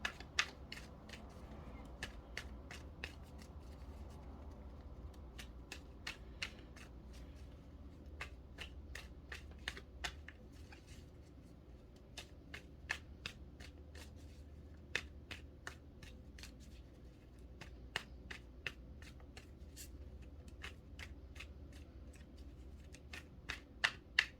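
Tarot cards shuffled for a pick-a-card reading, a steady run of crisp, closely spaced riffling clicks and snaps lasting throughout, close and fairly quiet over a low background hum, with no talking.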